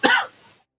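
A single short, harsh cough with a throaty rasp, close by and quickly fading to silence.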